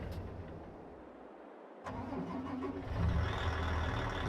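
A farm vehicle's engine starts up in Farming Simulator 22: a brief gap, then a rising mechanical rumble that settles into a steady, moderately loud idle.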